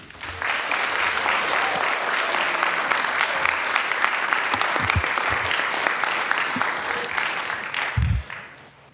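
Attendees at a city council meeting in Hayward give a sustained round of applause, full and steady for about eight seconds before thinning out, with a few low thumps near the end.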